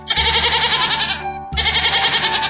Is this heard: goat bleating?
yes